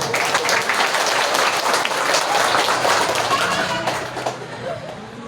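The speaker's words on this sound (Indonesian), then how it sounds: "Boleh kasih aplaus ya, Pak?" A village gathering in Karawang, Indonesia, breaks into sustained applause, a dense wash of many hands clapping that holds steady and then thins and fades toward the end.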